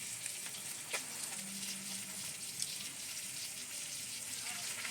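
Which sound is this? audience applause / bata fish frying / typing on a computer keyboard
bata fish frying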